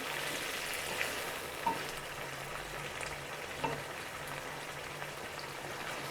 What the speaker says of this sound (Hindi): इसको हमने अच्छे से इसमें अब फ्राई करना है, 3 से 4 मिनट जो है ना इसको भूनना है इसमें